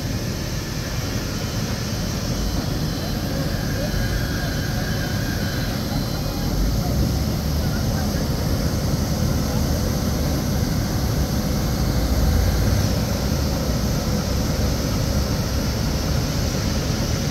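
KLM Royal Dutch Airlines jet airliner at an airport, giving a steady, loud broadband engine roar that holds throughout with no talk over it.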